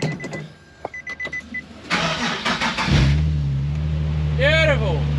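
A Nissan 370Z engine cranks and catches, settling into a steady low idle, loud and close; a few clicks and a short voice come before the start, and a brief chirping whine rises near the end.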